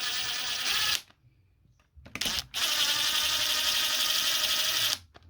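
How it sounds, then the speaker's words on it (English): A hand screwdriver undoes the screws on the motor of a Hoover HWB814DN1 washing machine, giving two long, steady bursts of close, gritty scraping separated by a short quiet gap with a few faint clicks. "we'll pop our screwdriver in there. Again, just use a normal screwdriver"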